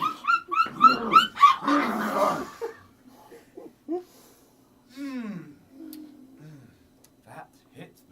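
A dog whimpers and yips in a rapid series of high squeaky cries at the start, then gives a few softer whines between spoken voices.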